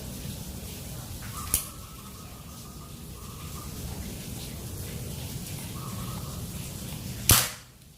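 Two sharp PCP mini air pistol (L-38, 2500 psi) shots: a lighter crack early, then a louder snapping shot near the end, amid steady hissing outdoor ambience.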